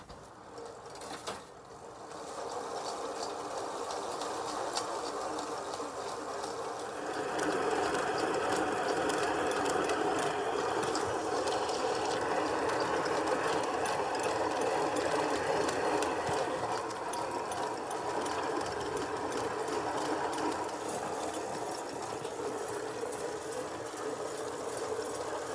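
A bicycle-powered grain mill built from an old bike with its gear shifter set to the rider's effort, running as a steady, dense mechanical whir and rattle that holds even and fairly loud throughout, with no talk.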